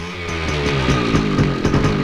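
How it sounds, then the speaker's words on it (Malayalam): A motorbike engine revs loudly and close, its steady harmonic drone rising and falling in pitch with throttle blips throughout, alone with no talk. "ബൈക്ക്."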